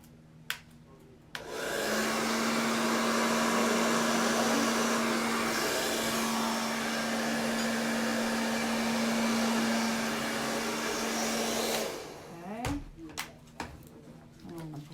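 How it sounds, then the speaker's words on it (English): A hair dryer blows steadily on a navy-flooded acrylic paint pour for about ten seconds, a loud, continuous whir with a constant hum that switches on and cuts off, followed by a few clunks and handling noises. "I'm going to get the hairdryer"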